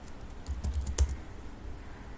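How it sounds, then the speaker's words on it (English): A few quick, soft keystrokes on a computer keyboard as numbers are entered, a short cluster of light clicks near the start, close and quiet against low room hum. "So let's type some numbers."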